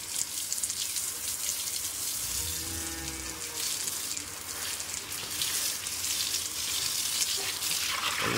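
Water splashes and pours continuously while a cow is bathed, a steady hissing rush with brief low thuds partway through, close and moderately loud.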